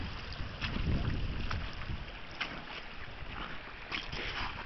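Cold outdoor wind blowing at a fossil-hunting site, a steady rushing buffet across the microphone that swells and eases over a few seconds with no voices.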